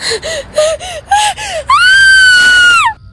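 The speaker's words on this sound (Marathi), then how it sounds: "एका स्त्रीच्या किंचाळण्याचा आवाज मला आला" A woman gasps sharply several times in quick rhythm, then lets out one long sustained scream, loud and close, as a horror-podcast sound effect.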